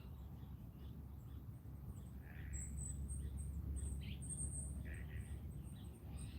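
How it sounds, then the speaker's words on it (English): Scattered high bird chirps and calls sound from a distance over a faint, steady outdoor hum in a quiet Seattle neighborhood, calm and quiet. "You can hear the birds."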